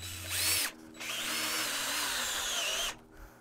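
A power drill driving exterior screws into a wooden fence post whirs in two bursts, a short spin then a longer steady run, close and loud.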